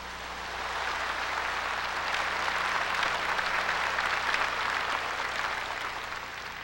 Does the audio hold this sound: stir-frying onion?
no